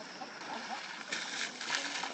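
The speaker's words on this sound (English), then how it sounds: "They are extremely fond of water and love to splash around at every opportunity." A herd of Asian elephants splashes in water at a zoo enclosure, a continuous close wash of sloshing and splattering with a few heavier surges, no voices present.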